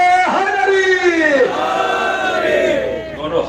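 A crowd at a religious gathering chants a slogan together, a loud massed shout that rises in a sustained roar and falls away in long drawn-out voices.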